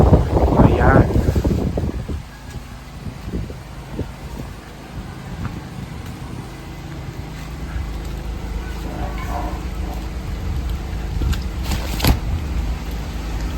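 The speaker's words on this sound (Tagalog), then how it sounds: "Malakas pang hangin." Strong wind buffets the microphone outdoors in Sorsogon in the Bicol region, a steady rushing roar. A voice and handling noise come at the start and a sharp gust near the end.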